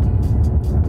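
A Lotus Evora GT sports car drives on winding roads, its engine a steady, loud, close low rumble throughout with no talking.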